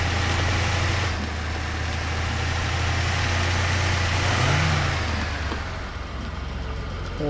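An off-road truck engine drives steadily in Expeditions: A MudRunner Game, with a loud continuous low rumble and a brief rise in pitch near the middle. No voices are heard.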